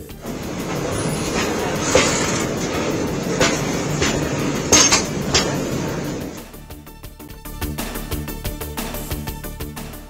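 A freight train rumbles along the tracks with a heavy, steady roar, then a rhythmic clacking of wheels over rail joints, close and loud, on the first run after an accident.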